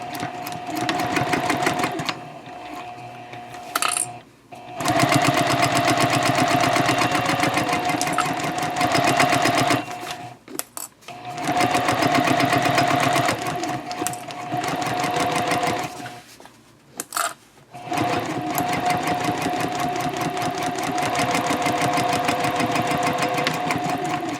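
A sewing machine stitching the side and bottom seams of a tote bag at a 3.0 stitch length: a loud, steady, close mechanical whirr in long runs broken by short pauses.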